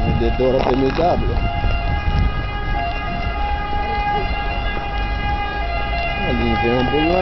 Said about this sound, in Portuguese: Ali vem a ambulância desesperada.